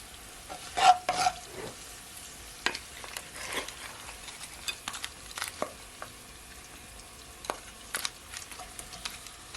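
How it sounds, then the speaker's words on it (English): Shrimp for Jamaican pepper shrimp going into a hot pan, a soft sizzle with scattered spatula clinks and scrapes, fairly quiet and close, with no voices. "Then now I'm gonna add my shrimp."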